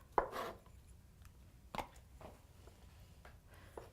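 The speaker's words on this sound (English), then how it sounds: "just gonna get on to chopping those beets" Knife chopping beets on a cutting board: a few sharp, separate thuds at uneven intervals, close but fairly quiet, with a soft background hum between them.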